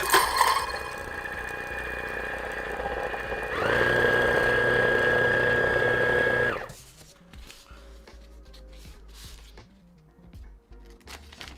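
An Option-O P100 coffee grinder set to 5.1 whirs with a steady motor drone that rises in pitch and loudness partway through, then cuts off, leaving quiet handling sounds.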